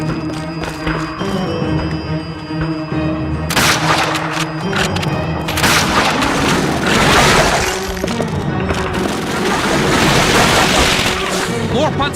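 Panzerschreck rocket blasts and gunfire in a PS2 World War II shooter, a run of heavy booms and crashes over a steady rattle of combat, loud and continuous, with shouted voices mixed in.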